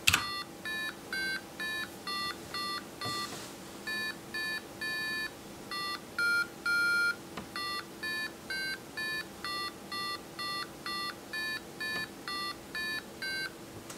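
An 8008-based Mini-08 single-board computer beeps out Mary Had a Little Lamb as a steady run of short electronic tones, each note a clipped bleep with a brief gap, over a faint constant hum and no talking.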